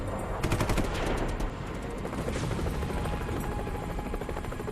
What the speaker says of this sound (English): HMX helos are dropping an assault team by fast rope.